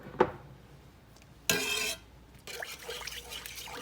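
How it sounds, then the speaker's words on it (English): Chicken broth pours into a skillet in a home kitchen, a brief splashing gush followed by a softer trickle and faint clinks, fairly quiet with no talking. "take our chicken broth and pour it straight in the skillet"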